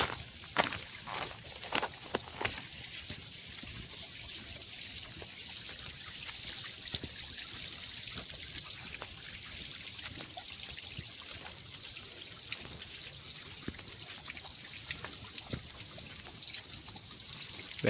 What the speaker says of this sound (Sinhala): වැහි කාලෙන හින්දා මේ හැමතැනම වතුර උල්පත් තියෙනවා.